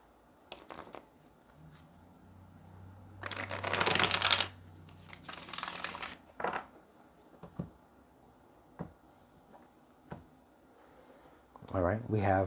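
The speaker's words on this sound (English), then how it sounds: "let's get one more shuffle" Tarot cards are shuffled in two quick riffling bursts, close and crisp, followed by a few soft taps and faint handling sounds, with a voice speaking briefly.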